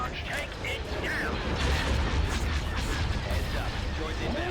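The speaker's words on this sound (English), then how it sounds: "Cannons charged. Take it down." Cannon fire in the Star Wars Empire at War video game, a dense rumble of booming blasts and explosions over a steady battle din, with radio-style voices speaking over it.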